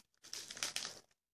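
A plastic mail package crinkles and crackles as it is pulled open by hand, a short close burst of rustling about a second long, with no talking.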